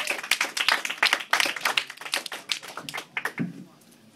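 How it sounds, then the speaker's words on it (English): A stand-up comedy crowd gives a comedian a round of applause: scattered, uneven claps from a small audience, fairly faint, thinning out and trailing off toward the end. "Josh Kanter, give him a round of applause"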